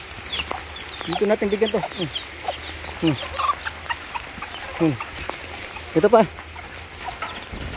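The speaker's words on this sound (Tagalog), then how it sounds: "Ito na yung ating mga sisiw." Chickens and chicks cluck in short bursts close by during a rainy morning feeding on a farm, while a person speaks intermittently over the birds.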